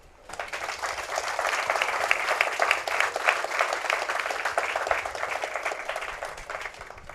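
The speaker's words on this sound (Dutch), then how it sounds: "Hij verdient eigenlijk ook een applaus." Sustained crowd applause at a Dutch-language speech event, many hands clapping densely and steadily at moderate loudness for about seven seconds, with no talking over it.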